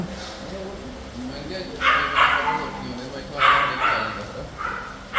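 A dog barks in short loud bursts, three or four separated yelps, close by on a farm where a Jersey cow is kept, while people talk throughout.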